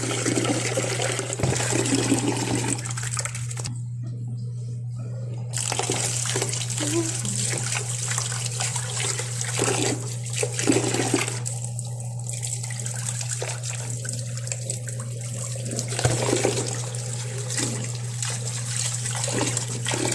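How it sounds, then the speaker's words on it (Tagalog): Tap water runs steadily while rice is rinsed in a home kitchen, a continuous close splashing rush with brief quieter gaps and a low electrical hum beneath. "Hugasan lang natin yung rice."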